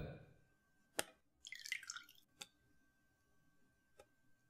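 Water drips off boiled chicken pieces set to drain: a few sparse, sharp drops land in near silence, with one brief trickle between them.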